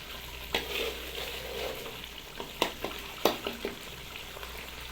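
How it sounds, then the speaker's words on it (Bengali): Spice masala cooks in a pan with a little water for a chicken dish, making a soft continuous bubbling sizzle with a few sharp stirring clicks. "আমাদের হালকা হালকা জল দিয়ে মশলাটাকে একটু ফুটিয়ে নেওয়া হচ্ছে।"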